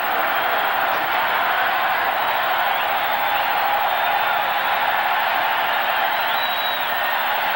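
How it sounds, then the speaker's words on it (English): A football stadium crowd at a 1995 Miami at Florida State game, standing and cheering in a steady, dense roar that holds loud and unbroken throughout, distant and massed with no single voices standing out. "Crowd is standing and cheering as the players on the sideline are turning and waving their hands"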